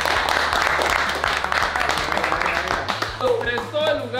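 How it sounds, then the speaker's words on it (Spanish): A group claps for Barber Has, the barbershop hosting a crew's extreme haircut session, with brisk applause and scattered sharp claps running under lively talk that carries on throughout. "También vamos a dar un aplauso a Barber Has."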